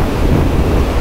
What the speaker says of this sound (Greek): Τώρα έχει αρχίσει, ξεκινήσει ο πολύ δυνατός αέρας και σε εμάς.